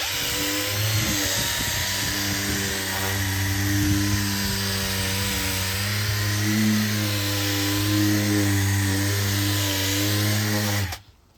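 A power tool spins a reusable pad against a hazy, yellowed car headlight to polish it, giving a steady close high-pitched whine with a low hum that runs continuously and then stops abruptly at the end.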